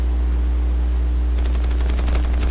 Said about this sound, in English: Oh man, someone's shooting at me.